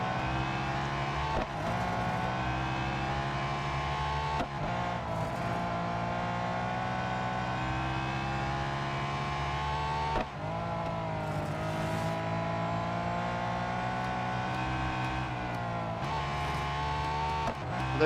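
A race car engine in the racing game Real Racing 3 drones steadily and rises and falls in pitch with brief dips at gear changes. It runs loud and continuous for the whole stretch, with no talk.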